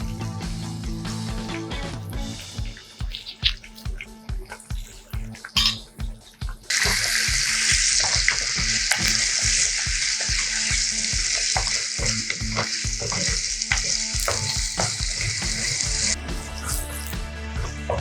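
Onions, ginger, garlic and chilies fry in a pan, with clattering stirring strokes first, then a loud, steady sizzle that holds for several seconds before easing back, with no voices.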